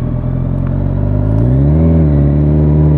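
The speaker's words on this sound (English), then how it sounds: "All the fun of a Delcovic exhaust." Motorcycle with a Delkevic exhaust revving up, a loud, close engine note that climbs steadily in pitch over about three seconds, heard alone with no talk.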